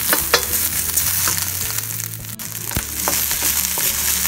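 Old, clumped leftover rice sizzles steadily as it is stirred and fried in a pan for Chinese fried rice, with scraping strokes and small clatters over a continuous close frying hiss.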